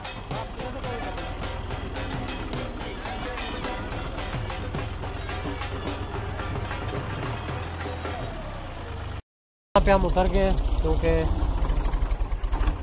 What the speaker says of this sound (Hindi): शोर आ रहा था और मैंने सोचा व्यूअर्स को समझ तो आ रही होगी, इसलिए मैं ट्रैक्टर से उतर गया हूँ